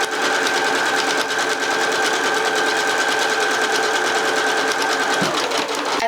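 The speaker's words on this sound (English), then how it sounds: "I will put the raw edge of my fabric up against that, and then I will just sew straight all the way down." A sewing machine stitching a straight seam along fabric, a steady rapid whirring hum, loud and close, running continuously before stopping near the end.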